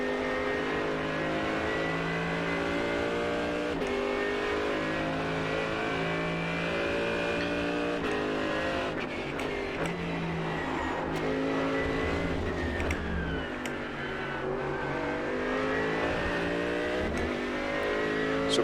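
Mercedes AMG GT3 race car engine in the iRacing sim at Suzuka, a loud, steady high-revving drone with gear changes and rising and falling pitch, close and continuous throughout with no talk.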